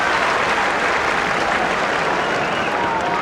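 A dense, loud crowd roar from a 1999 AFL football match between the West Coast Eagles and Ess holds steady for the whole stretch, with no break or let-up.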